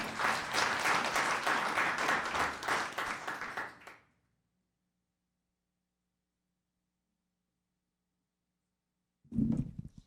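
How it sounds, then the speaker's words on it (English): Audience applause at a Los Gatos town council meeting, about four seconds of dense clapping that stops abruptly, then near silence before a brief fresh burst of clapping at the end. "Round of applause, everybody."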